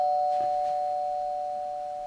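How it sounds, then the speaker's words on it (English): A single electronic doorbell tone rings out clearly and slowly fades away. "Is that the doorbell?"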